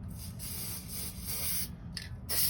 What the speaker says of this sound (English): First thing we're going to want to do is spray.